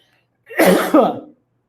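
A single sharp, explosive cough burst with a brief second push, close and loud, followed by quiet.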